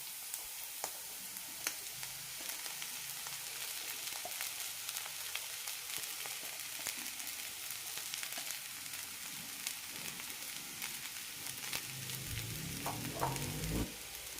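Sliced onions sautéing in a pan until translucent give a steady, moderate sizzle and crackle with occasional stirring scrapes near the end.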